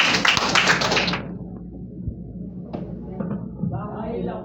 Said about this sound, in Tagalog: isang masigabong palakpak